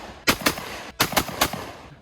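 A TR Imports Silver Eagle Inertia One budget shotgun fires in quick bursts, two or three loud sharp reports close together followed by another fast cluster, close and alone.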